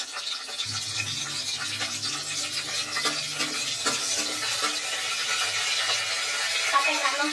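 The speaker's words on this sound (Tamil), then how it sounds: "பட்டை கிராம்பெல்லாம் பொரிஞ்சிச்சு." Cinnamon, cloves and cardamom fry in oil for veg biryani, producing a close, steady sizzle with scraping stir strokes throughout and a faint low murmur early on.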